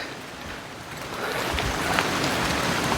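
Steady rain patters and hisses on trees outdoors in a mountain village, a dense wash of drops that grows slightly louder, with no voices.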